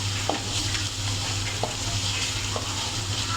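Green chillies sizzle in a hot pan with a steady frying hiss, broken by a few sharp spatula taps and scrapes at regular intervals. No one speaks.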